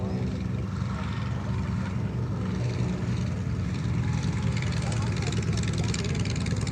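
Warbird aircraft flying the overhead break at AirVenture, a steady distant engine drone with broad wind-like roar that holds level throughout, heard outdoors with crowd noise.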